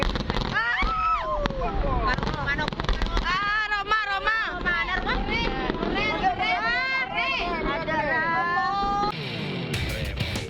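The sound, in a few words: firecrackers in hot air balloon exploding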